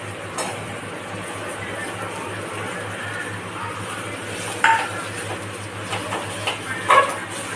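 Potatoes go into a pan of roasted turmeric masala and are stirred for an aloo paratha filling, with faint scraping and a couple of sharp utensil clinks against the pan over a low kitchen hum.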